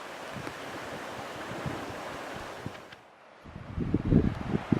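A mountain creek rushing below a ridge in the North Absaroka Wilderness in April, a steady broadband wash of flowing water with wind noise, dipping briefly before louder splashing surges near the end.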